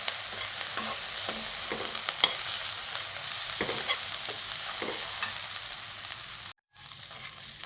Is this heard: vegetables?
yes